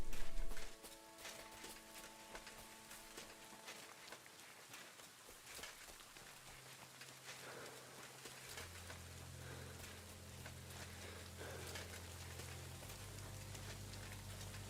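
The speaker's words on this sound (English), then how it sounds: "Oh good, it's raining." Steady rain pattering on surfaces, close and continuous, with low tonal hums sitting underneath and a brief louder burst at the start.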